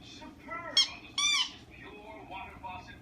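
A dog's squeaky ball toy lets out several short, high, wavering squeaks, close by and fairly loud, one longer squeal in the middle, over a low background rumble.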